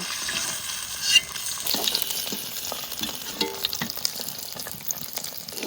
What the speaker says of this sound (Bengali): মাছ সব সুন্দর করে ভেজে নিয়েছি, এবার তুলে নেব